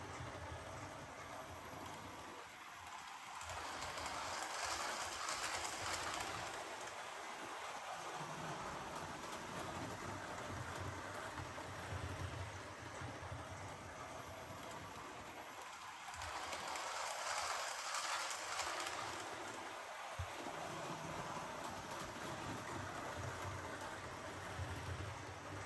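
Model railway trains rolling along the track with a steady, continuous rumble and clatter. The sound swells in two louder passes, with brief dips between them.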